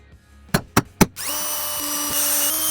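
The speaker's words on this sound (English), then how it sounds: "I'm probably gonna drill some pilot holes here." Three quick knocks, then a power drill whirs steadily up to speed, running continuously at close range as it bores pilot holes for screws while installing a NOCO AC port plug on a truck.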